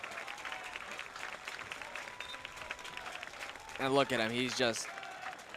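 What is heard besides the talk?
stadium crowd applause for a soccer player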